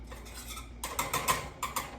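A Fisher Price toy whisk stirs butter in a bowl, giving a run of light, quick clicking taps that start faint and grow louder and busier in the second half, close by with no talk.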